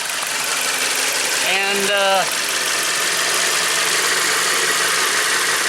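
A 2015 Dodge Journey engine runs at idle after a heater hose fitting repair, a steady close hum with a brief tonal whine partway through and someone speaking a word over it.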